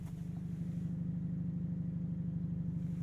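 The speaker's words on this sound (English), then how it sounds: "Feisty noises from that 2-liter turbo 4-cylinder on startup. And this is an active valve exhaust system, but this is as quiet as it gets." Hyundai Elantra N with a 2-liter turbocharged four-cylinder and active valve exhaust idling just after startup, a steady low rumble with faint pulsing, close and continuous with no voices.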